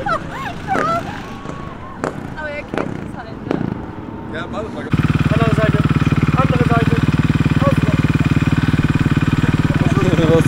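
A motorcycle engine idles loudly and steadily in the second half, following a stretch of excited voices and a dog's barks and whines as the dog rides along on the motorcycle.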